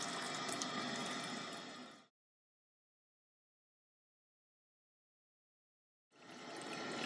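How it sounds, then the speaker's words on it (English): Water runs from a tap into a cup in a steady rush for about two seconds, then stops for several seconds before flowing again. "Turn on tap."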